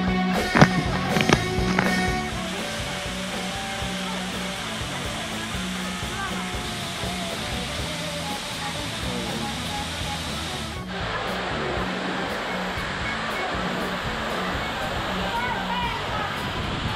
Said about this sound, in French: le bruit de l'eau